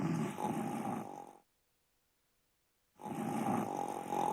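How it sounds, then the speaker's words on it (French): Loud, rasping snores of a sleeping giant from the Jack and the Beanstalk fairy tale, one long rumbling breath, a pause of silence, then another heavy snore, close and alone. "Se laissant tomber sur la table, il se mit à ronfler bruyamment"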